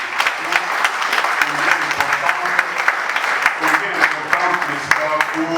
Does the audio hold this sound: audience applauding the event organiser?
yes